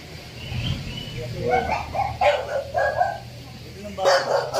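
Several dogs, bulldogs and French bulldogs among them, let out a string of short yaps and barks at close range in a busy outdoor space with a steady low hum.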